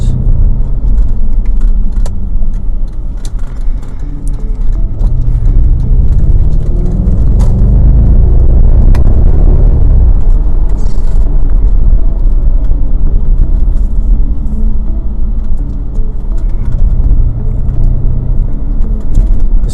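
A 2004 Audi RS6 is on the move, its engine and road noise forming a steady, loud, low rumble that carries through the whole stretch with no speech.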